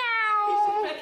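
A person imitates a cat's meow in a drawn-out, high, wavering voice. It is a single close vocal call, lasting about a second.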